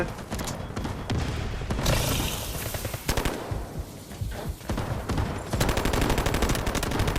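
Automatic gunfire and rapid bursts of shots in the mobile shooter game Delta Force Mobile, dense and continuous with overlapping volleys.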